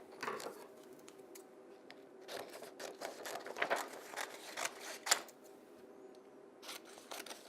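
Transparent A-foil being cut with scissors, a few quiet snipping and crinkling sounds in irregular clusters against a low background hum.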